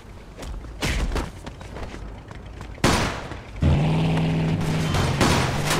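Gunfire during a shootout in the Mafia 2 video game, with several sharp loud bursts and booming impacts spaced over a few seconds amid mechanical clatter.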